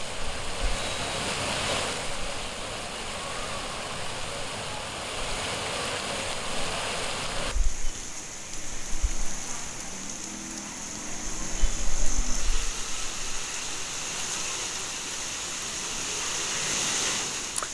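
Heavy rain pouring over Hyderabad, a loud, steady broadband roar of rain on surfaces with brief shifts in intensity and low rumbles along the way.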